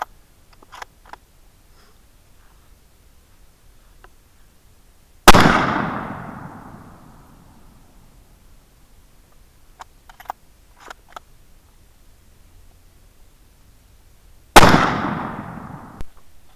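.308 bolt-action rifle shots ring out outdoors, two sharp, loud cracks about nine seconds apart, each trailing a long fading echo, with faint clicks and light handling noise in between.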